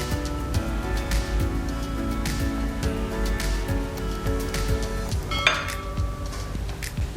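Chocolate cupcake batter with vanilla essence being mixed in a bowl: continuous clinking and scraping of a utensil against the bowl at a busy, uneven rhythm, with a brighter clink near the end and no talking.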